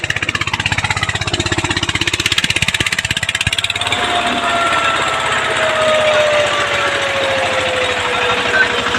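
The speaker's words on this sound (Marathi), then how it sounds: "एक गणपाचा ट्रॅक्टर आहे" A tractor engine runs close and loud, first with a rapid, thumping idle pulse, then settling into a steadier, continuous drone with a faint whine riding on top.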